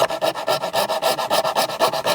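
A coping saw cuts through wood in a workshop with steady back-and-forth rasping strokes, about eight per second, close and loud with no voices.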